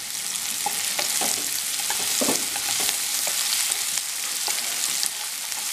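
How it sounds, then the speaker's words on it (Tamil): Onions fry with curry leaves and salt in a pan for a dal curry, sizzling loudly and constantly while a spatula scrapes and taps against the metal in irregular strokes. "வெங்காயம் கொஞ்ச நேரம் நல்லா வதங்கட்டும்."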